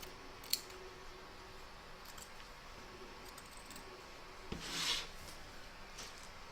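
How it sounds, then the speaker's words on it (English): Scissors trimming excess fabric around an appliqué of Africa and Madagascar on a quilted runner, quiet close snips and soft rubbing, with one sharp click early and a brief swelling rasp near the end. "We're now going to trim up all the excess fabric from both around Africa and Madagascar"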